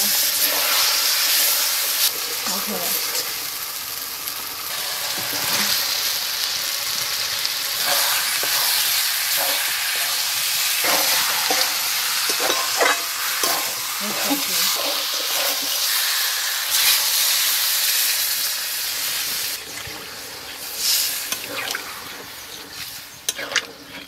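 Chili, turmeric and cumin powder with added water bubble and sizzle in a pan, a loud, hissing, steamy frying sound with intermittent stirring scrapes over about twenty-four seconds.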